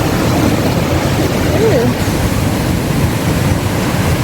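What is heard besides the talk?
water rushing through a rice irrigation sluice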